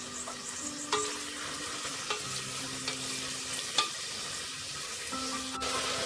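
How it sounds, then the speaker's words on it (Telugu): Onion pieces frying in hot oil inside a pressure cooker for mutton drumstick curry make a constant close sizzle, with occasional sharp ladle taps and scrapes against the metal, no talking. "ఉల్లిపాయ ముక్కలను వేసుకొని గోల్డెన్ బ్రౌన్ కలర్ వచ్చేంత వరకు వేయించుకోవాలి"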